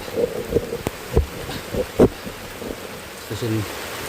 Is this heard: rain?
yes